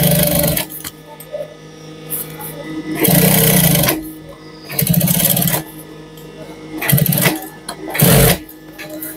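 A sewing machine stitching a jacket zipper, running in several loud bursts of steady rapid whirring separated by quieter pauses, with a person's talk heard between the runs.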